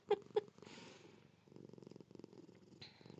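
A cat lying in a person's lap purrs softly and steadily, close by and very quiet, with a couple of brief light touches near the start.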